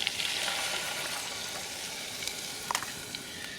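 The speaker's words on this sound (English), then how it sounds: "you just cook that until that cream cheese gets smooth" Cream cheese and 1/4 cup of milk cook in a pot with softened onion outdoors in the mountains, giving a steady, soft sizzle and hiss with a few faint clicks and no talking.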